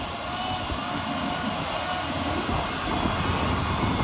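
An easyJet passenger jet airliner coming in to land, heard as a steady, broad engine roar that holds constant and swells slightly toward the end, with no talking.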